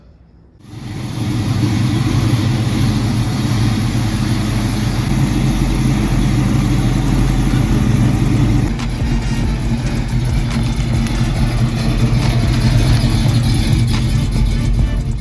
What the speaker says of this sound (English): We're gonna go take it for a first test drive.